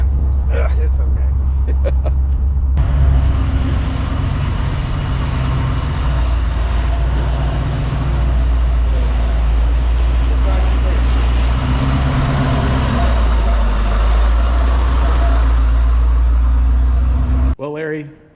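A supercharged 1962 Corvette rumbling during a ride, a steady deep engine drone heard from inside the car, with people talking over it before it cuts off at the end.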